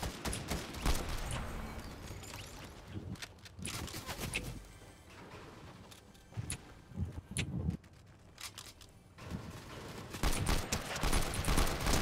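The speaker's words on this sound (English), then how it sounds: "just absolutely gunning down this team right now." Gunfire from a team-based shooter video game: scattered shots and short bursts at moderate distance, with quieter gaps and a denser cluster of firing toward the end.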